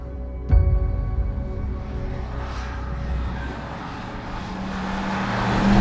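A Bentley Continental GTC V8 S twin-turbo V8 engine fires up with a sharp bark, then settles into a deep, steady rumble that swells slightly louder toward the end.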